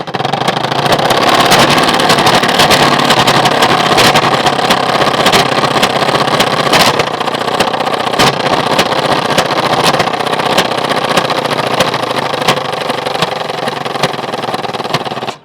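A bicycle rigged with a bent plastic water can mimics a Bullet motorbike, giving a loud, continuous, rattling engine-like drone that holds steady for about fifteen seconds up close, with no talk.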